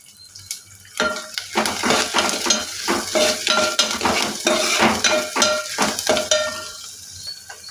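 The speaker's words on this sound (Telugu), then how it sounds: "నూనె కాగాక ఉల్లిపాయ, పచ్చిమిర్చి, కరివేపాకు వేసుకొని వేయించుకోవాలి" Onion, green chilli and curry leaves fry in hot oil for a chana dal and cauliflower masala curry, with a steady sizzle broken by repeated quick clinks and scrapes of a stirring spoon against the pan.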